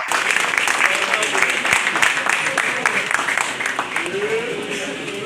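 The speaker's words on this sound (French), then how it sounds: "je demanderai juste un tonnerre d'applaudissements à ces jeunes aussi présents" A crowd applauds steadily throughout, a dense wash of clapping that stays loud and even, with a faint voice or two underneath.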